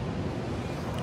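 A mountain river flows through the Langtang valley, a steady, close rushing wash of water that stays even and unbroken throughout, with no voices.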